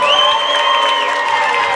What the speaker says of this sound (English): hear the applause for Tommy Davis as the PA announcer lets the fans know that Tommy Davis broke that record